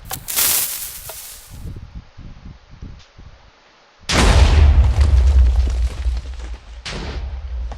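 TNT cannon blast in Minecraft: a loud booming explosion bursts out partway through after a quieter stretch of small pops and rustles, with a sharp secondary burst following near the end.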